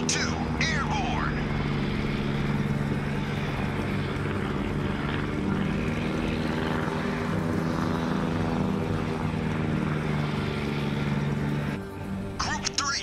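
Military aircraft engines drone steadily in a video game, a loud continuous propeller-like roar with a brief radio voice near the start and the end.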